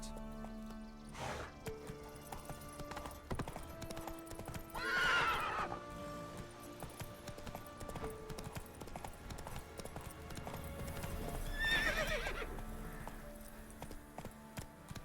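Roach the horse in The Witcher 3 gallops with steady clip-clop hoofbeats, and two loud, near neighs ring out, one near the middle and one toward the end.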